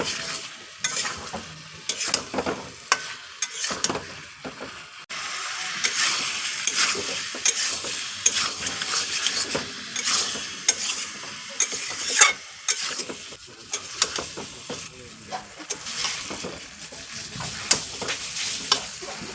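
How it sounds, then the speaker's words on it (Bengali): Fried potatoes for aloo dum are stirred and sautéed in a pan, with a constant sizzle under repeated scraping and clattering strokes of a spoon against the pan, close and fairly loud. "এবার একটু নাড়াচাড়া করে কষিয়ে নেব।"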